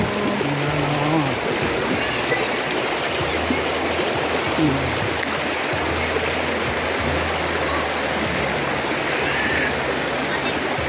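People soaking in a flowing stream on a hot day: rushing water and light splashing run continuously, with voices chatting close by over the steady wash.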